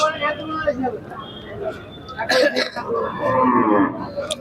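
A cow moos loudly nearby, a long low call repeated, over a busy outdoor crowd with people talking in the background at a cattle market.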